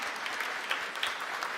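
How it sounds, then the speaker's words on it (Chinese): A church congregation applauds the choir at a Sunday worship service, a steady wash of many hands clapping, fairly faint and distant, with no voices over it. "我们为上帝，也为着我们的圣歌队一个热烈掌声"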